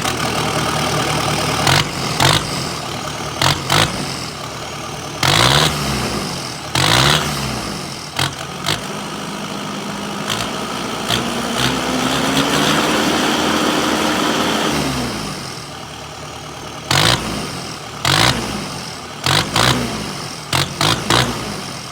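Kubota SVL 75-2 compact track loader engine fitted with a big turbo and a 2 1/4-inch straight-pipe exhaust, loud and close, idling roughly and then revving repeatedly with sharp blips.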